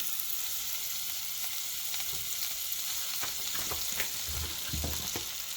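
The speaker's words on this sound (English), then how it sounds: "And I'm stirring my onion." Chopped onion being stirred in a pot while cooking for Ethiopian doro wat, a soft steady sizzle with scattered scraping and clinking stirring strokes, fairly quiet and close, no voices.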